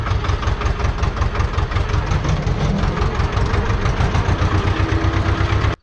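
A tractor engine runs steadily at close range during crop-spraying work on a farm, with a dense, rumbling low throb and a rapid knocking pulse, ending abruptly near the end; no one speaks.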